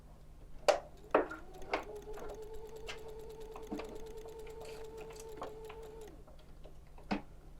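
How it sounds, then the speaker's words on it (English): A sewing machine stitches the edge of fabric for a tie jacket, with a few sharp clicks and then a sustained, even motor whir running for several seconds before a final click. "I'll resume my stitching after the second notch and go around the second edge"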